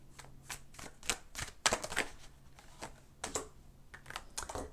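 Tarot cards are pulled and laid out for a reading, giving faint, close rustles, slides and light taps on a table in irregular bursts, with no talking.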